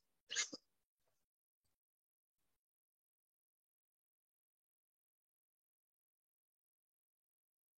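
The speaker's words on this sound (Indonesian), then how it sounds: "Saking semangatnya sampai batuk." A single short, sharp cough bursts out near the start, then near silence follows for several seconds.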